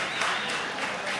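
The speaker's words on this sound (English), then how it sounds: "So let's give them a round of applause." Audience at a music industry panel forum in Toronto applauding, a brief steady burst of clapping, moderately faint and continuous with no pause.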